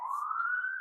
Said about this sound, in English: There are sirens in the background, so I just wanted to wait for a moment.